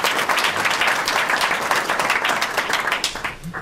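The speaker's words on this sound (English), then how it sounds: "Please greet all them with an applause." Dense, steady applause fills the room at the opening of an international academic conference on smart systems and technologies, holding fairly loud for the whole stretch before tapering slightly at the end.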